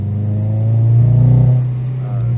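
A Honda Civic engine revs with a rough, uneven misfire, its low rumble swelling and then dropping back over a couple of seconds, loud and close.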